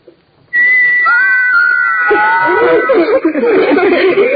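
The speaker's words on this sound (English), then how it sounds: "These little carved figures can whistle." Thin, high whistling tones sound for a couple of seconds, then give way to close chatter and chuckling voices.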